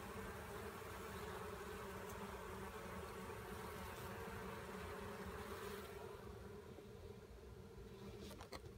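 Honey bees humming steadily at an opened hive in winter, a dense continuous buzz close by that fades slightly toward the end, with no one speaking.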